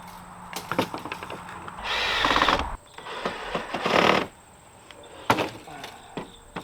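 Power drill driving screws into a wooden flower rack for a miniature felt flower truck, with short whirring bursts, clacks and knocks between them, fairly close by.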